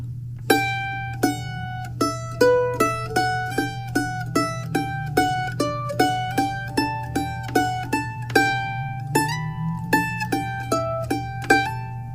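A solo string instrument runs through the scalar third line of the B part of Indian Arm, a quick, even stream of distinct notes played alone and clearly close up.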